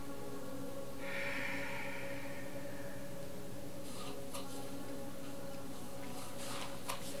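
A breath released through the nose in a yoga breathing exercise after rapid bastrika breaths: a soft airy exhale lasting about two seconds, faint and close, over a steady low hum with no talking.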